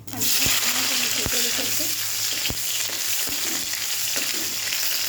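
Onions fry in a pan with a loud steady sizzle, while a few sharp clicks and scrapes of stirring are heard close by and alone.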